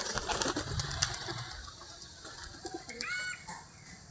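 A satin pigeon, a fancy domestic breed, gives soft low coos in a quiet outdoor setting, with faint rustling and a few brief higher bird sounds mixed in, and no one speaking.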